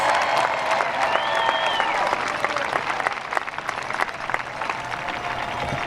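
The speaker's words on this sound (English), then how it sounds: "Let's give them all a round of applause, folks." Audience at a 2022 high school commencement ceremony applauding graduates, a dense sustained wash of clapping from a large crowd in a big hall, steady at first and gradually thinning.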